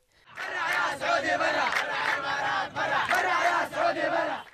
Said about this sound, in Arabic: تطورت إلى هتافات مناوئة لوجود التحالف